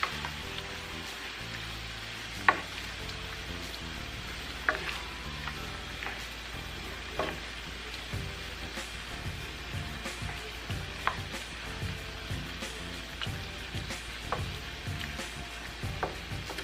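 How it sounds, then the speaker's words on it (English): Pepper steak sauce bubbles and sizzles steadily in a frying pan, a close crackling hiss with scattered clicks and scrapes as it is stirred. "Put it all in and give it a good stir. The sauce will start thickening up."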